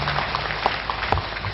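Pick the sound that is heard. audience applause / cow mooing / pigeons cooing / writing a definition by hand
audience applause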